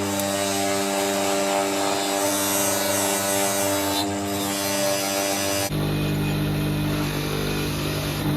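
A power tool whines steadily and loudly while polishing a part from a Honda CB400F Super Sport motorcycle under restoration, its pitch and load shifting abruptly partway through as the tool presses harder against the metal.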